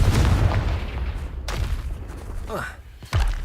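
Confringo fire spell in Hogwarts Legacy: a booming blast with a rumbling low end and crackling burst, followed by a second sharp impact near the end, loud and close.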